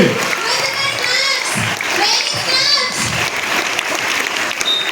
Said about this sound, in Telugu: చప్పట్లు కట్టుకోవాలి.